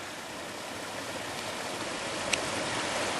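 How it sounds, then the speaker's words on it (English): Water rushes down a waterfall on Kinder Scout in the Peak District, a dense, steady roar close by that fills the whole short stretch without a break. "we're walking down the side of a waterfall"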